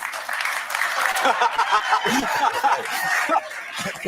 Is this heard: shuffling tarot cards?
no